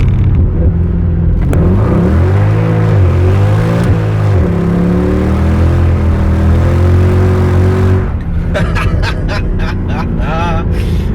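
Mercedes W204 C63 AMG V8 accelerating hard through the gears on winter tires in cold weather, a loud, close engine roar that rises in pitch, drops at each shift and climbs again, ending with a higher, rougher burst.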